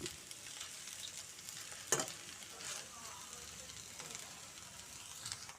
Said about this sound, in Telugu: చక్కగా ఫ్రై అవుతున్నాయి, చాలా వరకు ఫ్రై అయిపోయాయి అన్నమాట బెండకాయ ముక్కలు